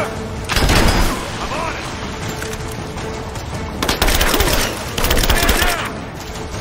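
Gunfire bursts in the video game Rise of the Tomb Raider, loud repeated shots and booms in two clusters amid a firefight, with voices shouting over the shooting.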